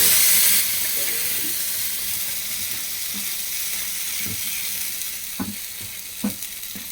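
Mung beans hit a hot pan with a loud burst of sizzling hiss, which settles into steady frying with a few stirring knocks and scrapes toward the end.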